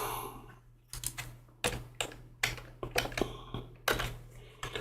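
Bursts of quick clacking keystrokes on a computer keyboard come in short clusters separated by pauses, close and fairly quiet over a low steady hum.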